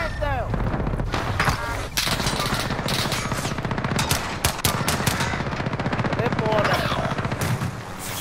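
Rapid machine gun fire in the video game Call of Duty: Modern Warfare, long rattling bursts close and loud, with a helicopter-like drone and people talking over the shooting.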